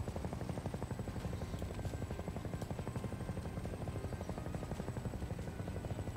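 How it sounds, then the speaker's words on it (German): A helicopter in the video game Hybrid Wars drones steadily with a fast rhythmic rotor chop, loud and close throughout with no talk. "Jemand hat den Hubschrauber hier runtergeschubst."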